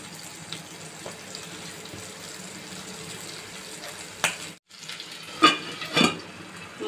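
Corn masala sautéing in a covered pan, a soft, steady sizzle with a few louder clatters and bumps toward the end.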